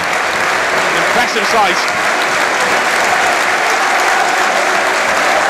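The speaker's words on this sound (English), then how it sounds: "So the applause continues, ringing around the ground." Football crowd at a Wrexham versus Grimsby Town match applauds a player leaving the pitch, a broad, continuous wash of clapping ringing around the stadium while a commentator speaks briefly over it.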